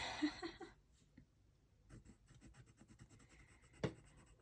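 Quiet, intermittent scratching of a colored pencil on paper as it is rotated and pressed to blend, close and soft with short pauses between strokes.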